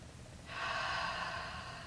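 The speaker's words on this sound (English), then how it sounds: "Take a deep breath" A single deep breath drawn in close to the microphone, a steady airy rush that swells quickly and holds for over a second in a calm meditation setting, with no talking.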